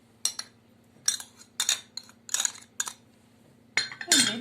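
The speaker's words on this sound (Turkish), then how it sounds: "kaşık yardımıyla karıştıralım" A spoon mixing potato köfte batter with egg, flour and spices in a bowl, giving a series of bright clinking scrapes in irregular bursts, close and clear, with no talking.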